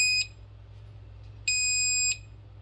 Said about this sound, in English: There's 2 beeps. That lets you know that your toast is done.